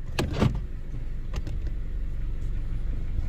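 A Chevy Cruze with the 1.4 engine pulls away at the start of a drive: a couple of short clunks from inside the cabin, then a steady low engine and road rumble that stays even and close.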